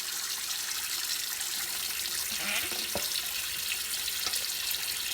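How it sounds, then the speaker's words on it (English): Steady broadband rush of tap water filling a bathroom sink for washing a human hair wig, continuous and fairly even throughout, with a few faint clinks and knocks partway through and no talk. "So now I'm going to fill my sink back up"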